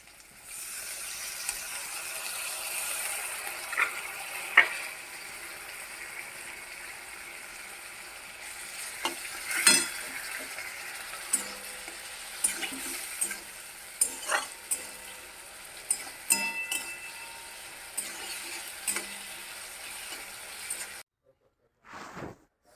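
Poppy seeds fry in a pan for a homemade sweet, giving a steady low sizzling hiss broken by scattered scraping clicks of stirring, with a brief quiet gap near the end.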